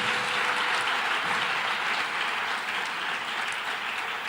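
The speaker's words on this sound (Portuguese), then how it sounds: "Uma salva de palmas para ele." Steady applause from a church talk-show audience for a pastor, a continuous even patter of many hands clapping at constant strength throughout, without talk.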